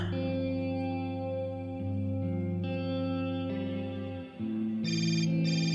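A phone rings in Hotline Miami 2: Wrong Number, an electronic, echoing tonal ring that repeats in steady, sustained bursts with a brief dip before a brighter, higher tone near the end.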